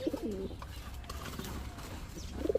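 Pigeons coo in soft, throaty bursts at the start and end, near and moderately quiet, over a low background murmur at a pigeon market.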